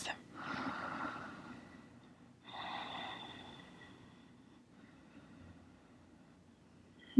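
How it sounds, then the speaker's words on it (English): Slow, controlled yoga breathing through the nose with a soft oceanic hiss, two long breaths close and clear, the second shorter, then quiet. "seal the lips, come back into your Ujjayi breath"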